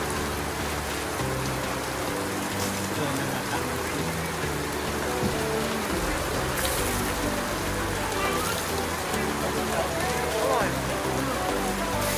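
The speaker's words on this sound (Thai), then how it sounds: "ไหนๆก็ติดฝนแล้ว" Heavy rain falls steadily on surfaces at a market area in Lampang, Thailand, a dense continuous hiss at constant loudness from start to finish, with no break or pause.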